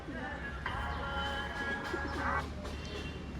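Pet pigeons give soft, low cooing calls against light background noise, with a few thin higher chirps and no speech.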